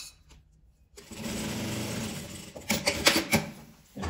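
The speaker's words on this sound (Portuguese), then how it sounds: "Você vai costurando e vai deslizando normalmente" Sewing machine stitching fabric for a travel toiletry bag, a brief whirring run after a quiet start, with a few sharper clicks and rattles near the end, close and moderate in level.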